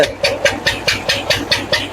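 An old engine driving a water pump chugs nearby with an even, heavy knocking beat, about four firing thumps per second, loud and steady throughout.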